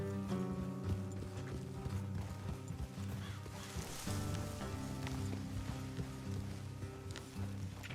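Horse hooves clip-clop steadily in the Red Dead Redemption 2 video game, a continuous rhythmic trot under a bed of game music and ambience, with no talk in the clip.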